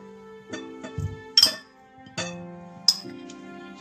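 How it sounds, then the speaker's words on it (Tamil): Cut potato pieces dropped into a mixing bowl for potato egg salad give a few sharp clinks and knocks against the bowl, close and isolated, spaced irregularly over a few seconds. "இந்த போலில் நான் இந்த வெட்டி வச்சிருக்கிற உருளைக்கிழங்க போட"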